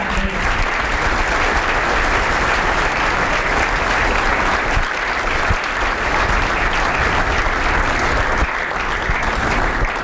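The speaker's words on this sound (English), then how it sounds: "Ladies and gentlemen, let's give a big round of applause for our 2017" Sustained audience applause at a scholar-athlete recognition awards ceremony, dense steady clapping from a large crowd lasting the full stretch without pause.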